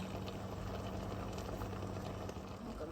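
A pot of water boiling in a kitchen with an exhaust fan running, a steady close bubbling roar.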